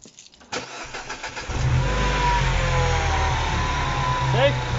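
A Mini Cooper engine cranks briefly and catches, then settles into a steady, close idle with a faint chirp near the end.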